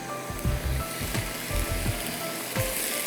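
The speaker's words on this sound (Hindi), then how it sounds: "प्याज को अच्छा सा भूनिए" Onions frying for Shahjahani biryani give a steady close sizzle, broken by repeated soft low knocks as they are stirred in the pan.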